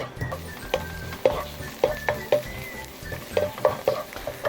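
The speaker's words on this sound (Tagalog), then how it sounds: "Haluin lang natin siya to make the leek oil and the smell of aroma very fragrant." Leeks are stirred in about three tablespoons of hot cooking oil for leek oil, a soft sizzle under repeated scraping knocks of a utensil against the pan, close and rhythmic, with no talking.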